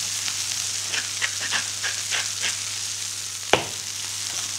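A burger patty sizzles and crackles steadily in a frying pan, with a sharp metallic clunk near the end as it is turned, close and alone without speech.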